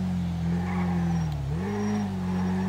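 A Honda CBR1000RR-R Fireblade SP superbike in GTA 5 revs with a steady droning engine note, dips briefly, then climbs again as it accelerates, loud and close, with no voices.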